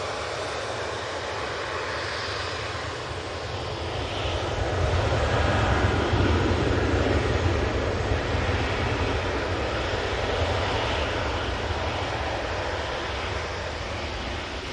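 An airliner departs Manchester Airport for Frankfurt, its engines a broad steady roar that swells in the middle and holds on, heard alone at a moderate distance.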